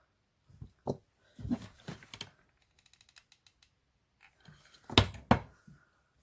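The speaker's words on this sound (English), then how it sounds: "Cut off any excess if you've got any." Scissors snip excess ribbon from a 3-inch two-tone hair bow, several short crisp cuts and clicks spaced irregularly, close and fairly quiet, with a louder pair of snips near the end.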